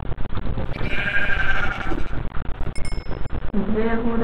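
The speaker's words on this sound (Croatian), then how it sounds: "ovdje ćemo da ubijemo ovu ovcu" A sheep bleats in Minecraft, a short synthetic cry heard against loud, busy game noise and clinks, with a later bleat near the end.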